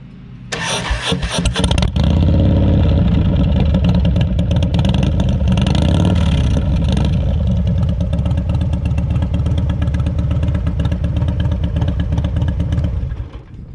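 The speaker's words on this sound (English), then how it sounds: "I have the 110 Screaming Eagle engine, still running the stock intake, still running the stock exhaust. However, we do got the baffles drilled out of it." A Harley-Davidson Dyna Lowrider S with a 110 Screaming Eagle engine, stock intake and stock exhaust with drilled-out baffles, starts up with a loud crank and catch, then settles into a deep, lumpy, thundering idle for over ten seconds, close and alone.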